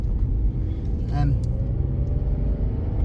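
Steady low road and engine rumble from a moving car, with a brief higher-pitched whine or squeal rising partway through.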